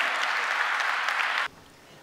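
An audience at the Eczacıbaşı Dynavit volleyball season-opening event applauds to welcome Faruk Eczacıbaşı on stage, a dense, loud wave of clapping that cuts off abruptly into near quiet.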